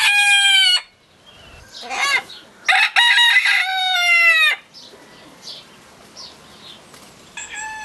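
Hen crowing from dense undergrowth in a single-sex flock, giving two loud, drawn-out cock-a-doodle-doo calls close by, followed by softer clucks and a fresh call starting at the end.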